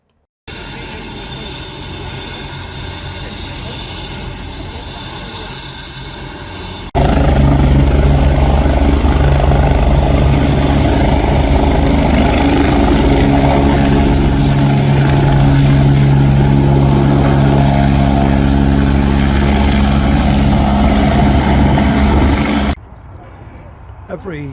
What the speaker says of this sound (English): this lovely private helicopter came in from Yorkshire for a rotors running